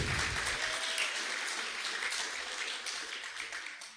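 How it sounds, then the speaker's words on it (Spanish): A congregation applauds during a Christian church sermon, a broad wash of clapping that stays fairly quiet and gradually fades toward the end. "Dale un aplauso a nuestro Dios porque Cristo nunca pierde."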